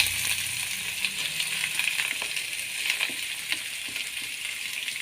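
Onion, chillies, garlic and ginger fry in a hot pan for an onion chammanthi, giving a steady, fairly quiet sizzle with occasional soft crackles and stirring scrapes throughout.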